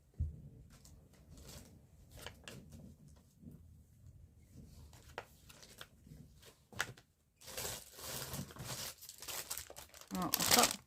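Paper napkins and tissue paper being rummaged through and crinkled, with soft rustling and crumpling under intermittent quiet talk, growing louder and busier toward the end with sharper crinkles.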